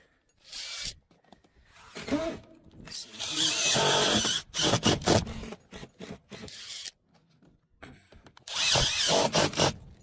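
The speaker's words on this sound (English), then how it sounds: "I'll start my screw in the inside the corner of a rib if it lands on a rib." A screw gun drives screws into the ribs of a metal roof while pipe flashing is fitted. It runs in several loud whirring bursts that stop and start, and someone talks in the gaps between them.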